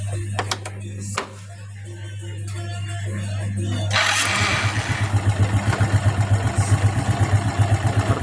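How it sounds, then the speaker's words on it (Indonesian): A Suzuki Smash motorcycle with a carbureted engine, heard first idling steadily with a few clicks and clatters, then revved up into a louder, pulsing, throbbing engine note. "Pertama, kita hidupkan mesin."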